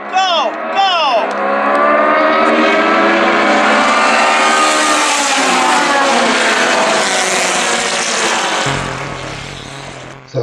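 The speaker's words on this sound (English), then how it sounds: "This is the start of the race" Race cars in a Group 5 flag race at Spring Mountain, Pahrump, roaring as they accelerate off the start, loud rising engine whine layered from several cars, sustained close to the listener and cutting off near the end.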